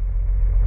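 Low, steady engine rumble of a car in a video game held in first gear, loud and continuous without a break over a very short stretch.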